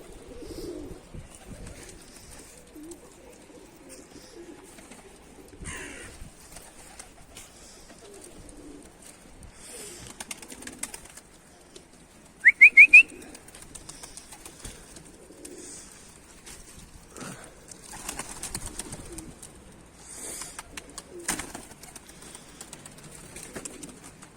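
Pigeons cooing softly in the background, with a brief sharper bird call partway through, amid faint ambient rustling.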